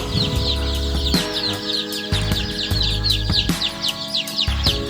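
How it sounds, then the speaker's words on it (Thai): Many small domestic chicks cheep continuously in high, rapid peeps, close by on a farm, while lower clucking and occasional knocks sound underneath. "เรามาชมลูกไก่นะครับ เป็นลูกไก่บ้านนะครับ"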